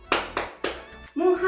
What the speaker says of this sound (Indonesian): kalian jawab dengan tepuk 4 kali